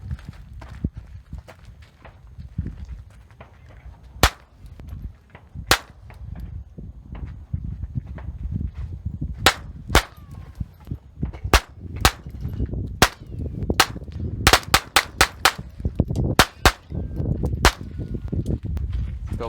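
Sig Sauer P365 pistol shots crack out in open desert, single sharp reports spaced irregularly, then several in quicker succession near the end, over low wind and ground noise.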